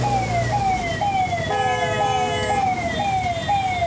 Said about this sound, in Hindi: अब देखो एम्बुलेंस को भी साइड नहीं मिल रहा